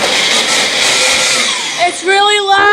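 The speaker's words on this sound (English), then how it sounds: "you're going to put it onto the blender. And I'm going to turn it on" A loud blender whirs steadily up close, mixing a Mars bar milkshake, then winds down as a voice starts talking over the fading motor.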